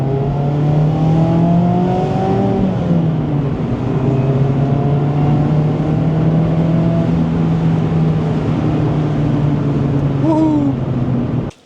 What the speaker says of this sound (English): I think the Miata sounds pretty good for being a 4-banger, you know? Because all I have is the Goodwin race exhaust